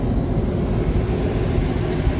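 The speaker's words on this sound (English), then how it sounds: "It's idling pretty fast." A 1982 Chevrolet K10 short box pickup idling fast, a steady loud low rumble that holds constant throughout without talk.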